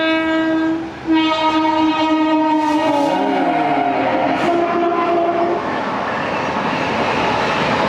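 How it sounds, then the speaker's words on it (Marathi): A train's loud horn blares with long sustained tones as an express rushes past close by on the Virar–Dahanu line, wheels rumbling steadily underneath, no voices. "आणि परत एकदा समोरून कोणतीतरी एक्सप्रेस ट्रेन पास होते."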